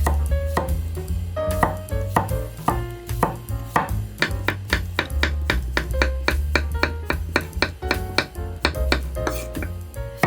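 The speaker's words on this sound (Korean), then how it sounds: "오이를 씻은 다음에 동글동글하게 썰어주세요" A knife slices a cucumber into rounds steadily on a cutting board, crisp rhythmic cuts one after another, over background music with a steady beat.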